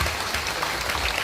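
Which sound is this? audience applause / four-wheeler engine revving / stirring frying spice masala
audience applause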